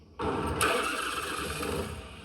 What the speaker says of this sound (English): We followed Billy Lane as he fired up the second Hubless bike and took off for a spin.